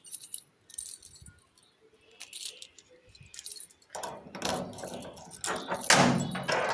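A bunch of keys jangles at a home's front gate and door during unlocking, in several quiet bursts that swell into louder rattling and clinks toward the end, with no talking.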